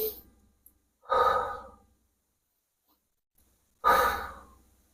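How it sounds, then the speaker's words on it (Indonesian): Two deep breaths in and out through the mouth, each a loud, close exhale lasting about a second, separated by quiet pauses, as in a calming exercise for public-speaking nerves. "Lalu tarik napas, hembuskan dengan mulut."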